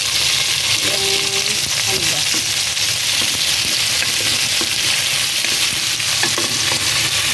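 Tomatoes fry and sizzle loudly in a pan for ginataang salmon, a dense continuous hiss with occasional stirring clinks close by.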